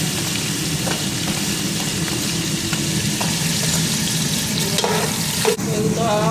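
Onions fry in hot oil in a pan, giving a steady close sizzle with a few clinks and scrapes of stirring near the end.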